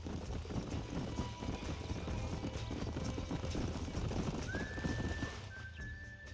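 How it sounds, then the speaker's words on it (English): Horses in the Red Dead Redemption game, hooves clip-clopping with a whinny amid ambient game sound, under talk. "These are fine horses."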